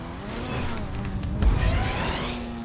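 Car engine revving during a GTA 5 car parkour race, a loud rumbling motor swelling to a louder burst midway and then settling, with a faint siren-like tone in the mix.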